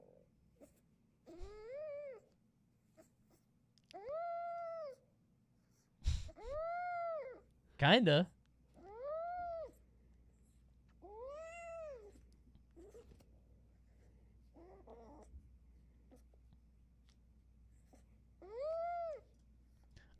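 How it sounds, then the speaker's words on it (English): A cat makes a series of high, chirping meow-like calls resembling Pikmin noises, about seven separate rising-falling cries spaced across the stretch, with a couple of sharp knocks and brief quiet talk between them. "This cat makes Pikmin noises."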